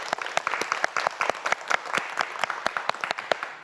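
Studio audience on the science quiz show QUIZ King Wang Jjang gives a steady burst of close, dense applause, many hands clapping evenly throughout with no voices over it.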